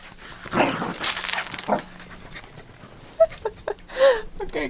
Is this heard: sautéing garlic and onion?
no